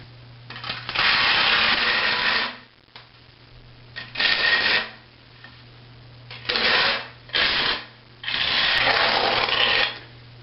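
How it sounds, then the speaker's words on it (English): A combing trowel with 1/4 by 1/4 inch notches drags through tile adhesive in a bathroom remodel, making long scraping strokes that come in several bursts separated by short pauses, close and fairly loud. "now we want to take a combing trowel, 1/4 by 1/4 holes, and just comb this all over."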